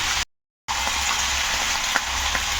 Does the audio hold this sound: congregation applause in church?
no